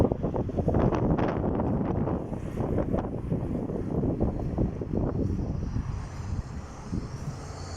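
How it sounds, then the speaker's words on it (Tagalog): Steady, loud wind rushing outdoors, buffeting the microphone with a continuous low roar and no voices. "Sarap ng simoy ng hangin."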